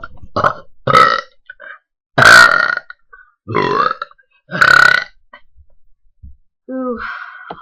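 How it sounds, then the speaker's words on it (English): A person belches loudly and deliberately, about six separate croaking burps of varying length spaced by short silences, close to the microphone, with a breathy gasp between some of them. "Here's the burp video."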